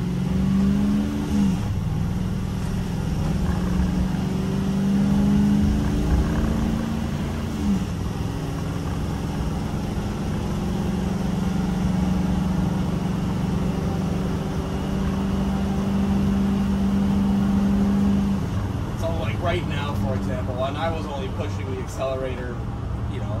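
Motorhome engine droning steadily while driving, with the tone rising and falling through gear shifts as it accelerates, a continuous loud road and cabin hum throughout.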